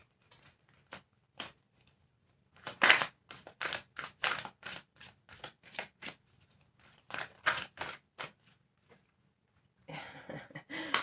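Tarot cards are shuffled and drawn in a quiet room, making a string of crisp papery bursts in uneven rhythm, with brief pauses between them and a denser rustle near the end.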